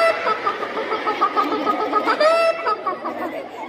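Several voices imitate a hen clucking in short, bouncy bursts amid lively group chatter and a brief rising squawk.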